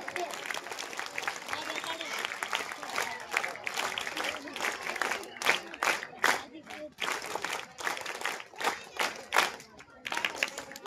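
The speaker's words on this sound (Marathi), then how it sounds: "जोरदार टाळी झाली पाहिजे।" Audience at a student award ceremony clapping, sustained applause that swells into louder rhythmic bursts, with a voice speaking over the crowd noise.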